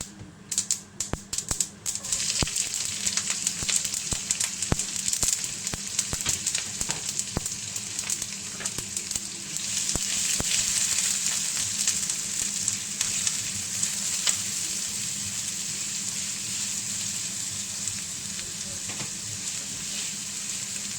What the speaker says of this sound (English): Once these start popping, I turn the heat up a wee bit.